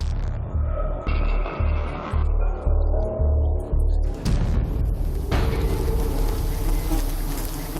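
Wild bees swarm around a wild honeycomb high in a tree in Cambodia. A dense, droning buzz carries through the whole stretch, with a run of rhythmic low thumps early on and a sharp knock partway through.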